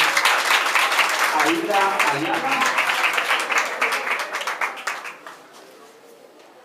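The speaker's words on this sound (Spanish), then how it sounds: "Aplausos para" A school audience applauds a student honoured for merit, with clapping that starts strong and gradually dies away into scattered claps and silence, while a voice speaks over the start.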